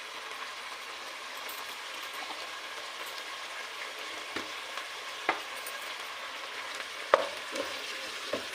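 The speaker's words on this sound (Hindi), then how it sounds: "3 से 4 मिनट हम अदरक लहसुन में चिकन को फ्राई करेंगे।" Chicken pieces fry with ginger garlic paste in a pan for palak gosht, a steady close sizzle with a few soft stirring knocks and no talking.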